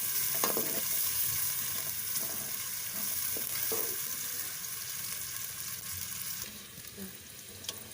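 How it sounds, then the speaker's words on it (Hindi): Onions browning in a frying pan, a soft continuous sizzle with occasional faint stirring clicks, quiet and close, easing slightly toward the end, no speech. "ये देखिए हमारा जो प्याज है वो ब्राउन हो गया है।"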